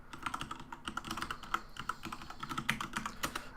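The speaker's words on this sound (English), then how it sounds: "Let's just type in here." Rapid keystrokes on a computer keyboard, an uneven run of light clicks with a few louder taps, close and steady with no talking.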